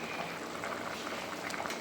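Water for biryani rice bubbles and seethes at a rolling boil in a pot, a dense, steady hiss of popping bubbles, close and fairly quiet.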